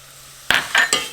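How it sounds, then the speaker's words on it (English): Rice toasting in a pan for a copycat four-cheese rice, heard as three short scraping, sizzling stirs of a utensil against the pan after a brief quiet moment. "I'm gonna start toasting."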